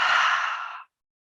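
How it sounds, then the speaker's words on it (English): A single deep breath exhaled audibly during yoga practice, a close breathy whoosh lasting under a second that fades out into silence. "Inhale and exhale."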